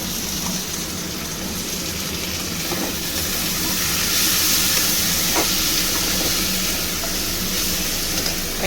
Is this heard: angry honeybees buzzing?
no